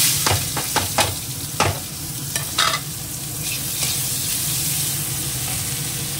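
Onions with dried red chilli and cumin hitting hot oil in a wok, with several sharp clatters of a spoon against the pan early on, then a loud steady sizzle.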